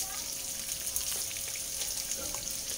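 Shrimp paste (alamang) sautés in a pan with jicama and pork fat, giving a steady close sizzle with small crackles and stirring scrapes throughout.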